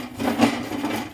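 A coconut shell scrapes across a steel dosa pan, a close, rough rasping stroke that swells and fades, then continues with softer grating.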